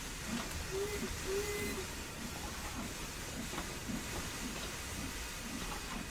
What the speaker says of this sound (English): See the extra steam coming out at the front